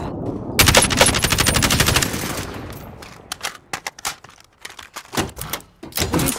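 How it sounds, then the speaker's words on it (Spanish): Rapid automatic gunfire in Call of Duty: Modern Warfare, a loud sustained burst at first, then scattered shorter volleys and single shots at close range, with no talk over it. "¡Nos disparan!"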